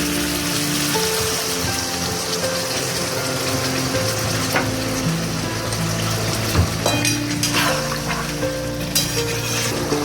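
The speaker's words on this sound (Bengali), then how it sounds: "এবার আমি এর মধ্যে হালকা উষ্ণ গরম জল অ্যাড করে দিচ্ছি।" Tomato chicken masala sizzles and crackles in the pan after lukewarm water is poured in, a loud, dense, rain-like frying hiss that continues for the whole stretch without talk.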